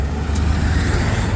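A car drives along a street in Holambra, Brazil, with a steady, loud rumble of engine and tyre noise filling the whole moment, close by.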